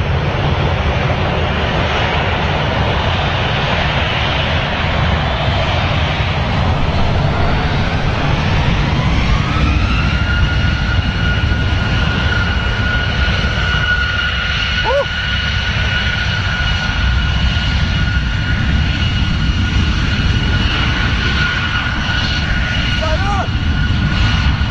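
Aircraft engines spool up for takeoff at Manchester Airport, a loud continuous roar with a rising whine that climbs and then holds steady, while people talk close by throughout.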